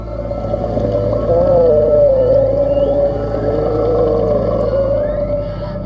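Whale vocalizations underwater, a loud, wavering moaning call that rises and bends in pitch, rippling across several seconds over a low, steady underwater rumble.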